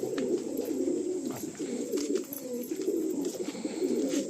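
Breeder pigeons in a large loft in West Bengal coo steadily and close by, their low, throaty rolling calls overlapping in a continuous chorus with faint rustling around them.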